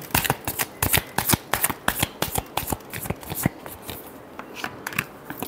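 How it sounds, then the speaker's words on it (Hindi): Tarot-style cards shuffled by hand for a Cancer horoscope reading, a quick run of crisp riffling flicks in a steady rhythm, close and clear, tapering off near the end with no talk. "last shuffle"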